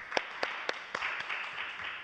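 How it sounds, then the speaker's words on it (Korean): A lecture audience gives faint, scattered hand claps for a speaker about to take the stage, with sharp individual claps at first that thin into softer patter. "큰 박수 부탁드리겠습니다."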